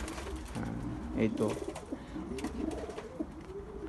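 Pigeons coo softly in repeated low throaty calls while bathing in cold weather, with faint splashing beneath and a brief word from a nearby voice.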